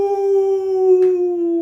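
A man imitates a wolf howl with his voice, holding one steady, loud, sustained tone close to the microphone.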